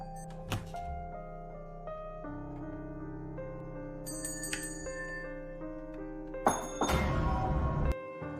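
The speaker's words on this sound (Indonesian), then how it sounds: "Seperti Tony yang mendengar bunyi bel dari kamar ibunya." A bell rings from a mother's room in the Indonesian horror film Pengabdi Setan, a faint, sustained ringing tone over a quiet eerie backdrop, followed near the end by a sharp, loud burst of noise.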